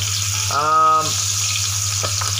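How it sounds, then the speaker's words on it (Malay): Fish frying in a pan gives a steady close sizzle, with a brief sharper burst of spitting oil near the start and a faint clink later. "Saya goreng ikan, sedap."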